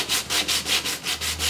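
Wood is sanded by hand with 60 grit sandpaper on a sanding block, giving brisk rhythmic rasping strokes, about six back-and-forth passes, close and clear with no talk.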